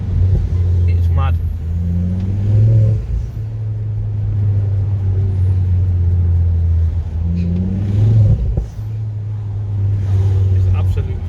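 Ford Focus ST with a new aftermarket exhaust, a deep, loud rumble that rises twice in quick revs and settles back to a steady throaty drone, with a voice audible over it.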